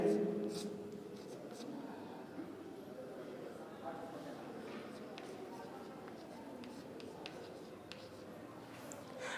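Steady scratching of writing on a board during a trigonometry lesson, faint and continuous under a teacher's speech.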